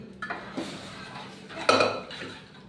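A spoon scrapes and knocks against a pot as dal tadka is mixed, a few clinks and a louder clatter in the middle, close and fairly quiet, with no talking.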